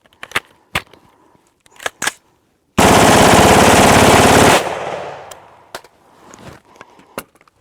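Automatic gunfire from a rifle fed by an X Products 50-round drum, one loud sustained burst lasting about two seconds with a hot gas tube, preceded and followed by scattered single shots.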